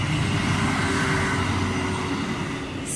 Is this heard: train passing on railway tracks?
yes